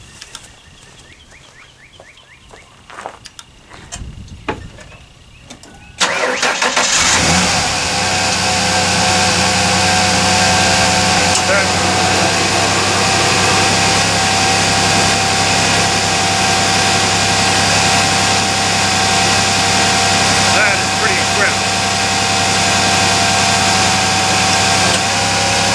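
A 2017 Jeep Wrangler JK, boosted with a NOCO Genius BOOST+ GB40 lithium jump starter, cranks briefly after some faint handling noises and then catches, settling into a loud, steady idle held close for about twenty seconds.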